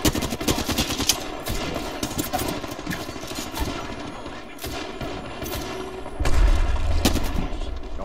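Rapid automatic gunfire in an Apex Legends arena match, dense bursts of rattling shots running almost continuously, loud and close, with a heavier booming stretch near the end.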